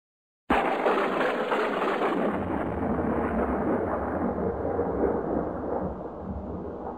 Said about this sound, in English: Thunder is the sound that follows a flash of lightning